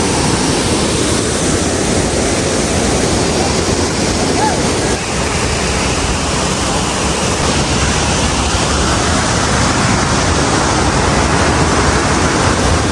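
Kanthanpara Waterfalls in Wayanad, Kerala roar as a loud, unbroken wash of falling water that fills the whole stretch, with a voice faintly buried beneath.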